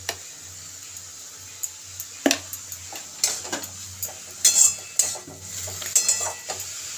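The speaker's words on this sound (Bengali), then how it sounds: "এবার এটাকে একটু নেড়ে দেব।" Greens with a little cumin powder and salt are stirred in a cooking pan, giving scattered scraping and clinking taps of a utensil against metal, close and fairly quiet over a faint low hum.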